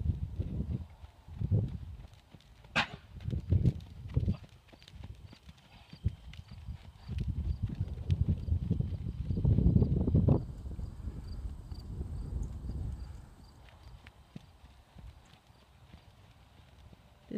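A half Welsh registered gelding pony walks with its hooves clip-clopping at a steady, moderately close pace, over faint background ambience, and the steps fade somewhat toward the end.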